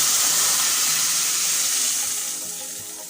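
Tamarind pulp poured into a hot tempering of cumin and asafoetida in oil for a chaat chutney, giving a loud, steady hiss and sizzle that fades slightly toward the end, with no one talking.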